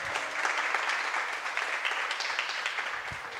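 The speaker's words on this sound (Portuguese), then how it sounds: "Você pode aplaudir o Senhor por essa palavra?" A church congregation applauds the Lord during a sermon, steady broad clapping from many people that fills the room at moderate level throughout, with a faint low thump near the end.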